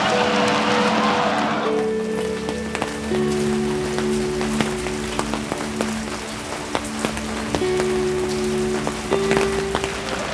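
Rain falling on a surface at an outdoor pro rodeo evening, a steady patter of drops with scattered sharper taps, moderately faint under a sustained mix of background tones and distant crowd noise.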